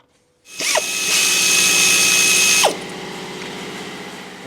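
A power tool, an impact-type drill, spins off the front transmission mount bolts on a Chevrolet Cruze 1.4 during engine removal, one loud close burst about two seconds long with a ratcheting whir that ends abruptly.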